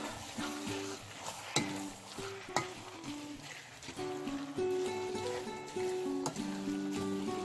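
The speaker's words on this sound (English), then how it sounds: "So that's 3 tablespoons of sugar. I'm gonna go ahead and stir that up." Fresh corn, butter, bacon and sugar stirred in a frying pan, with a steady sizzle and repeated scraping strokes of a spoon, close and fairly loud, while music plays underneath.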